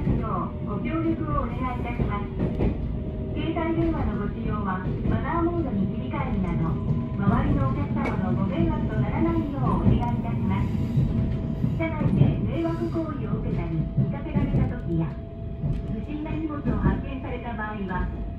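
A JR 313 series train pulls out of Shiojiri station, heard from on board as a steady, dense rumble of running gear and motors with faint higher whines, continuous throughout at moderate level.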